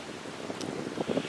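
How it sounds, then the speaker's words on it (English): Wind blows across a lakeside at Willow Bay in Allegheny National Forest, a steady rushing roar with buffeting on the microphone and faint lapping underneath, with no talk. "Alright, so it's still kind of windy."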